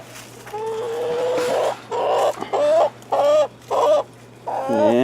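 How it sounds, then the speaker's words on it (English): Backyard chickens cluck and squawk in a burst of several short, loud calls close by, over a faint steady hum. "you have the chickens."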